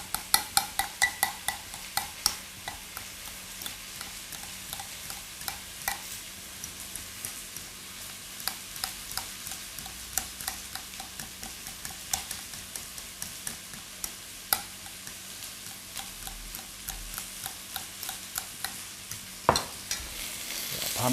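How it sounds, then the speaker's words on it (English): Pumpkin being stirred and shaken in a pan, a rapid series of sharp scraping taps and clicks against the metal over a soft sizzle, with no talking. "Pumpkin a little stir and shake."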